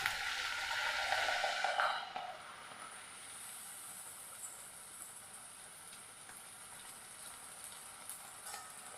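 Rice pathiri frying in hot oil, with a loud bubbling hiss at first that settles into a steady, quieter sizzle close by.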